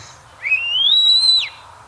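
A single clear whistle from a backyard songbird of a mimicking species, rising then holding steady for about a second before dropping, loud and close over a quiet background.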